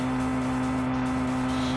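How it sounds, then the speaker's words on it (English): Loud, constant droning car engine from the Super Kids Racing video game, a steady buzzing hum holding one pitch without revving, alone and continuous throughout. "The engine for this is really loud."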